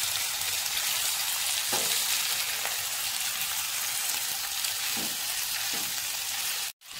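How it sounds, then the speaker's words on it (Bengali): Marinated chicken pieces frying in hot oil over a medium flame for a chicken masala fry give a steady, close sizzling hiss with a few faint pops, ending abruptly. "তেল গরম হয়ে এসেছে, এবার ম্যারিনেটেড চিকেনগুলো দিয়ে দিচ্ছি।"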